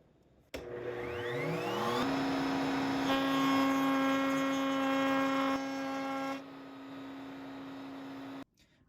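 A router table cuts a wooden dovetail: a motor spins up and holds a loud, steady whine with a tonal hum, its pitch shifting as the bit enters the wood, then runs down and stops.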